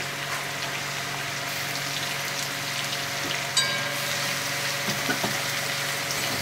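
Garlic sizzles steadily in hot oil in a pan while fish biryani with vegetables is cooked, a constant close frying hiss with a few small pops and clinks and no speech.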